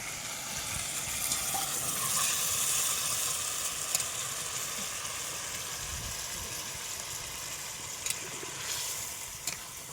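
Meat cooks in an outdoor pan with a constant broad sizzle and hiss, steady throughout with a few small pops and no voices.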